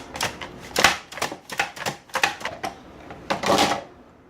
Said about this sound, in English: And then I'll put it into the mandolin